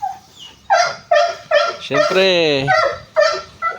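A large dog barks in loud, close bursts, several times in a row, mixed with whiny yips while a person talks nearby.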